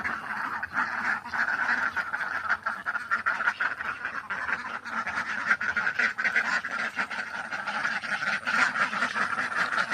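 A flock of ducks quacking continuously and overlapping, nasal calls close by and steady throughout, with no talking.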